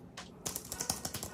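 Quick keystrokes on a computer keyboard shared between two virtualized machines, a rapid run of about eight close, crisp clicks after a brief softer tap.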